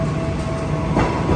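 A KRL commuter electric train from Yogyakarta rumbles steadily past at close range, with a continuous roar of wheels and carriages and a faint clatter over the rails.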